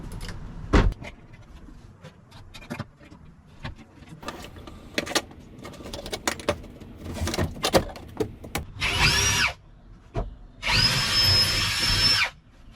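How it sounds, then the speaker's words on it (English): A power drill bores pilot holes into the metal frame of a Hymer Aktiv 2.0 camper van, with clicks and handling sounds before two sustained whirring bursts near the end. "It's got some 3-inch long sheet metal screws, so I'm drilling into the frame."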